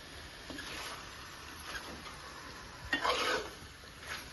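Chicken fry with gravy stirred in a pan, giving a soft scraping and sizzling texture with a few short stirring bursts, the loudest near the end, faint and steady without talk.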